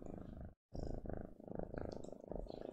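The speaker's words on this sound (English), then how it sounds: "Callahan, you wanna purr for the others to hear?" A cat named Callahan purrs close to the microphone, a steady low rumbling vibration with one brief gap, continuing throughout at a soft level.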